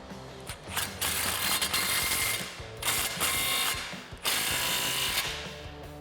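A ratchet with a 15 socket clicks steadily while tightening an exhaust tip clamp on a 2015-2020 Mustang EcoBoost Roush cat-back system, in loud continuous bursts with short pauses between strokes.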